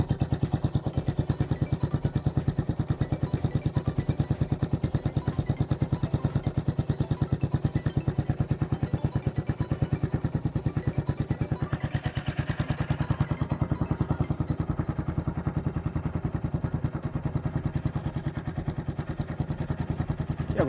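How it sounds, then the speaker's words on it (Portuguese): A Royal Enfield Classic 350 single-cylinder motorcycle engine runs steadily at idle close by after an oil change, with an even thumping rhythm throughout and no talk. "e vamos ligar a motoca"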